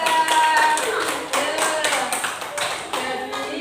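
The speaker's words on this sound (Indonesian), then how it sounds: "Oke, tepuk tangan untuk nomor 2." A classroom of students clapping for a presenter, a quick uneven burst of hand claps in close succession with individual claps standing out, fairly near and loud, fading slightly toward the end.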